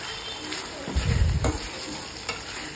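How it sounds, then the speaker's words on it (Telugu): Spices and dried red chillies frying in hot oil in a pan, a steady sizzle with a louder burst of crackling and stirring in the middle, close and without talk. "మొత్తం పచ్చివాసన పోయేంతసేపు మనం దానిని వేయించుకోవాలి."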